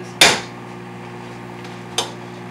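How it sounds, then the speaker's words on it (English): Meat being mashed in a pan gives two sharp metallic knocks a little under two seconds apart, close and distinct over a low steady hum. "Now we're mashing the meat."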